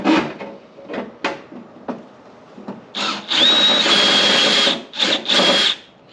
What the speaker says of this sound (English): The drill bit's slipping now.